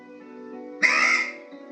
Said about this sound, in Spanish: Curro era un cuervo